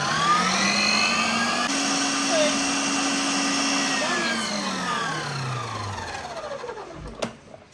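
An electric mixer whirs continuously through Coca-Cola cake batter, its motor pitch shifting and gradually winding down near the end, with a clink at the finish.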